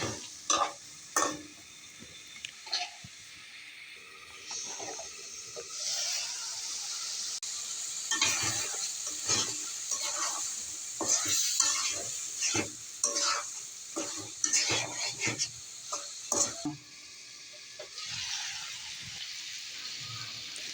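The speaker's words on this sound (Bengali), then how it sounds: "এখন কষানোর জন্য অল্প পরিমাণ পানি দিয়ে ভালো করে কষাই নেব।" Chicken gizzard and liver stir-fried with a little water in a pan: steady close sizzling with repeated scraping spatula strokes and wet stirring throughout, no voices.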